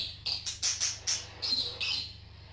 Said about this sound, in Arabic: بدأت ألاحظ أن الطيور بدأت تصفر وبدأت تغرد